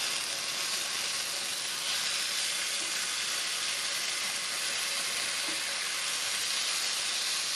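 Eggplant fries in a pan over medium heat, giving a steady, even sizzle and hiss of hot oil that continues unbroken throughout, close and moderately loud with no talking.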